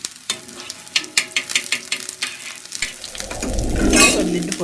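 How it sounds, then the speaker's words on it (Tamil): Thirukkai (stingray) fish frying in coconut oil in a pan, with sharp clatters and taps of a utensil against the pan early on, then a loud, close, swelling sizzle as pieces hit the hot oil. "நான் வந்து தேங்காய் எண்ணெயில் தான் இன்றைக்கி ஃப்ரை பண்ணுறேன்."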